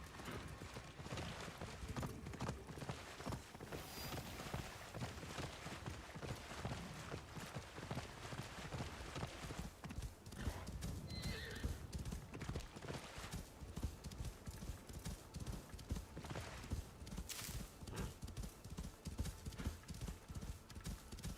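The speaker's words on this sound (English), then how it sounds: "Swim, my mighty horse." Horse hooves clip-clop in a steady rhythm through the Assassin's Creed Shadows video game, running continuously at moderate level with faint ambient texture and an occasional whinny-like sound, and no clear talk.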